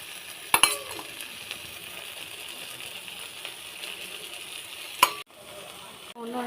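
Kelanga fish frying in oil in a pan, a steady soft sizzle with a couple of sharp clinks of utensils against the pan.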